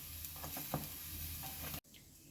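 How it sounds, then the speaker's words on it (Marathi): Kachori fries in a small amount of oil, giving a close, continuous sizzle with soft stirring clicks, then cutting off abruptly near the end and leaving quieter room tone. "अगदी कमी तेलामध्ये आपली ही कचोरी बनवून जाते."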